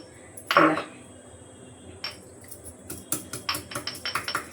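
Garlic is crushed in a small pounder, a loud opening knock followed by a quickening series of sharp, close metallic taps and thuds with no voice over them.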